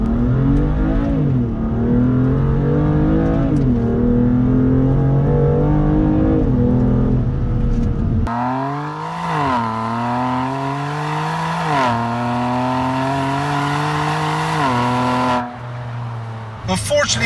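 A BMW M2 Competition's exhaust revs repeatedly, its engine note rising and falling through several sweeps, loud and close, with a voice talking over parts of it.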